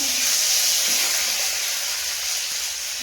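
Onion and bay leaf frying in hot oil, giving a steady, loud, broadband hiss and sizzle that holds throughout with no talking.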